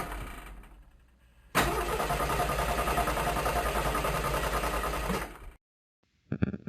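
A car engine strains to start: after a brief low rumble and a pause, a rapid, steady cranking whir runs for about four seconds and then cuts off abruptly, followed by silence and a short burst of noise.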